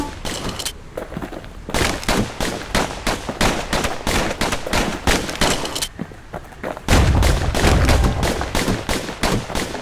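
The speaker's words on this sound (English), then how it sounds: "Know what's better than having a slinger pistol in a fight? Having two." Dual slinger pistols firing in the video game Bastion, a dense, rapid volley of loud gunshots that continues almost without pause, with a heavier burst near the end.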